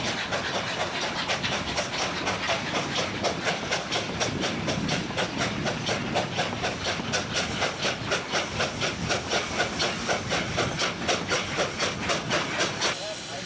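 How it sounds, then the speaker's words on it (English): Baldwin-built 1925 steam locomotive 481, once of the Denver and Rio Grande Western, pulls a Durango tourist train with a steady rhythmic chuffing and hissing of steam, loud and continuous throughout. "Engine number 481 is in service today."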